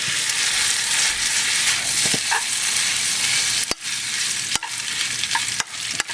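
Truffles stirred into a pan of sea urchin dish, with a steady sizzling hiss and a few sharp utensil scrapes and knocks against the pan, no voices.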